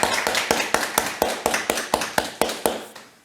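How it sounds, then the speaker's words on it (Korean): A church congregation claps together in a steady, even rhythm of about a dozen sharp beats, loud and close, without any speech, then stops. "우리 박수 치면서 하나님께 영광을 드리겠습니다."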